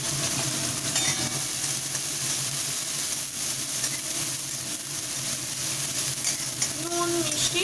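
Chopped green chili frying in hot oil with onion, giving a loud, continuous close-up sizzle under occasional stirring scrapes throughout.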